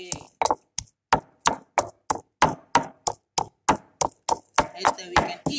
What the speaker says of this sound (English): Now we pound the garlic. Pounding the garlic.